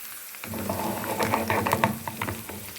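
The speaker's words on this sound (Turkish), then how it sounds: "Makaronu kovururam, Sonra e, böyle yağda su töküb bişirirəm." Macaroni fries in hot oil in a pan with a steady, close sizzle and crackle, plus a few brighter pops as the pieces shift.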